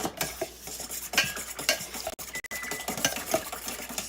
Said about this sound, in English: Whisking the eggs now.